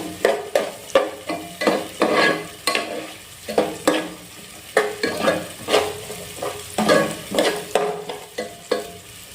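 Onions frying in a pan for chicken pulao, cooked until light brown, with steady sizzling and repeated close scraping strokes of a spoon stirring them at an irregular rhythm.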